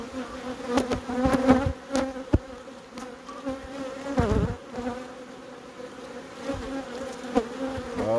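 Honeybees hum and drone around an opened beehive with honey supers, a close, continuous buzz of many insects with individual bees flying past, alongside wooden frame knocks and handling clatter.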